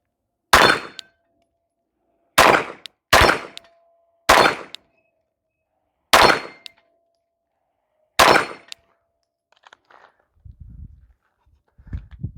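A Glock 19 fired at a steel head swinger target 15 yards off, six sharp shots spaced irregularly, each followed by a brief metallic ring, then quiet rustling and low handling noise at the end.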